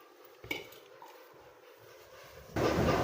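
A metal pot clanks, then a pot of water pours into a vessel for rice flour dough, a sudden steady splashing rush that starts near the end and is loud and close.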